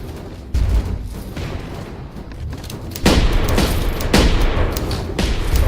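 Mortar towers firing in the VR tower-defense game Alchemist Defender, heard as repeated heavy booms and sharp blasts over a rumbling battle background that grows louder partway through.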